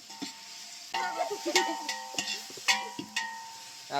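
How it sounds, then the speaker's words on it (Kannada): Chicken sukka frying in a pan, heard as a quiet, soft sizzle broken by repeated metallic clinks and scrapes from a spatula stirring against the pan at an uneven rhythm. "ಇದೆಲ್ಲನೂ ನೀಟಾಗಿ ಫ್ರೈ ಮಾಡಬೇಕು"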